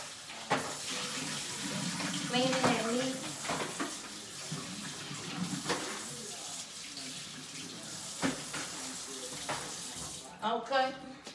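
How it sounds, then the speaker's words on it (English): Tap water running over raw rib meat in a sink as it is rinsed, a continuous splashing flow that shifts as the meat is moved under the stream, with someone talking over it at times. "So I'm gonna rinse off my meat, okay?"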